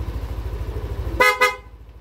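A car's stock horn sounds two loud, close honks in quick succession, following a low rhythmic engine idle.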